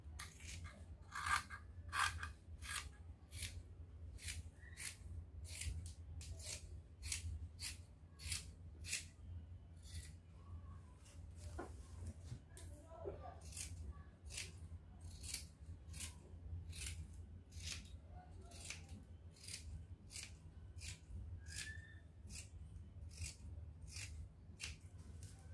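Scissors snip steadily through Ankara fabric while a dashiki top is being cut out, a long run of quick, evenly spaced close-up cuts with a brief pause partway, and no talking.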